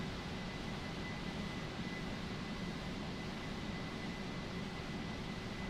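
Concorde jet engines in the Microsoft Flight Simulator 2020 game give a steady, broadband roar with a faint tonal hum, constant and fairly quiet throughout with no voices.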